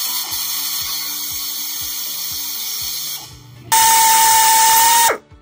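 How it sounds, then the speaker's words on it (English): A drill machines a replacement bushing in a Dodge HEMI 5.7L exhaust manifold during a botched bolt repair, a steady close whine with rhythmic low knocks, stopping briefly before a louder, higher burst of cutting that cuts off near the end. "we're going to take our next bushing, which is our 345, with a 345 drill, and we're going to go ahead and machine it"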